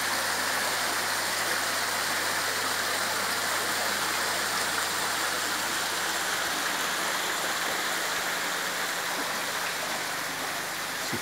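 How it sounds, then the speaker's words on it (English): A garden waterfall feature pours steadily, making a constant, even rush and patter of running water that stays soft and unchanging, with no voices over it. "Here's the waterfall feature."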